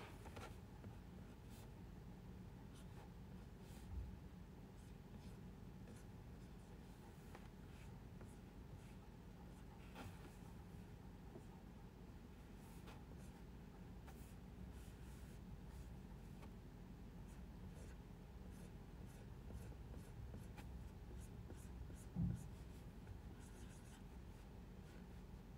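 Quiet scratching of a pen writing on paper, soft and close with small irregular strokes continuing throughout, plus one faint thump near the end.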